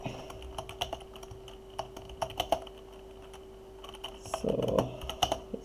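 Computer keyboard typing in scattered bursts of close, crisp key clicks with pauses between, a denser flurry near the end, over a steady low electrical hum; no talking.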